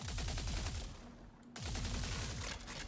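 Rapid bursts from the VOLT energy weapon in Star Citizen, a fast regular stutter of shots that pauses for about half a second before another sustained burst, loud and without talk.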